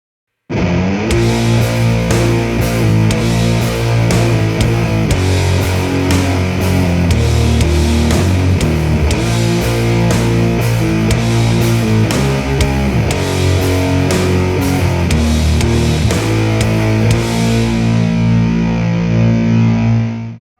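A heavily distorted, fuzzy electric guitar played through a Green Russian Big Muff fuzz pedal plays thick sustained chords and riffs, loud and continuous, ringing out at the end.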